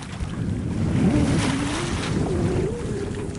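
A cutter-rigged sailboat with new mainsail and staysail moving through the sea, a continuous rush of water and wind against the hull with a faint rising tone, steady and close.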